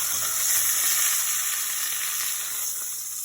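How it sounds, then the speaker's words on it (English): A chuck roast sears in a hot pan, giving a steady, close, loud sizzle that holds evenly from start to finish with no talking. "I got the other side searing"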